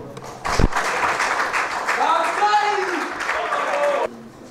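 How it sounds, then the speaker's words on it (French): Applause and crowd noise fill a hall at a political party congress during an investiture ceremony, with a loud clap early on and a voice speaking over the clapping before it cuts off. "Sous vos applaudissements."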